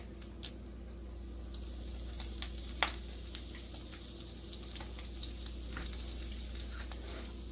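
Flour cooks in bacon grease for gravy, giving a quiet, steady sizzle with faint stirring clicks and one sharp scrape, no voices.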